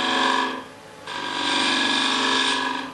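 A Patience and Nicholson (P&N) spindle gouge cutting wood on a lathe while turning a bowl rim, a loud, close whirring tonal scrape that dips briefly in the middle and then resumes steadily.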